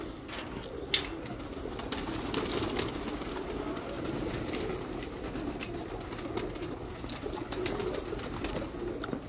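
Several pigeons coo softly and steadily in a quiet outdoor setting, with a faint background hum and one brief sharp tap near the start.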